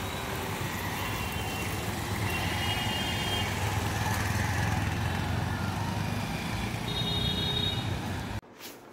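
A motorcycle engine idles nearby at night, a steady low humming rumble that holds even and continuous before cutting off abruptly at the very end.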